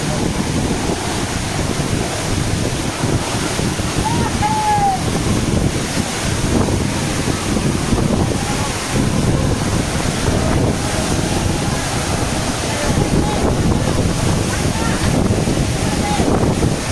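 Wind and rushing water at the base of Godhas waterfall below a hill in Nuapada, Odisha, a steady broadband roar with gusty microphone buffeting throughout and no clear talk.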